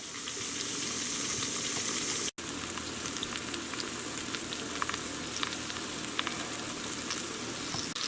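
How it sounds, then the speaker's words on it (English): A pork loin roast sears in a hot pot with a steady, dense sizzle and crackle and one brief break, close and continuous with no talking. "I'm going to let it sear on that side and on all the other sides as well."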